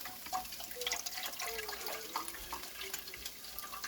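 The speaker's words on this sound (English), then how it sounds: "And just fill the rest with water." Tap water runs steadily into a big cooking pot that already holds chicken broth, for boiling noodles, with a continuous close splashing rush and small clinks over a few seconds.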